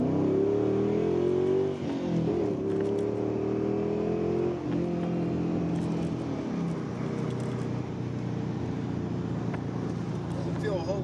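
An old Ford Mustang with 4.10 gears accelerates hard, its engine roaring loud and near, climbing in pitch through each gear with short breaks at the shifts.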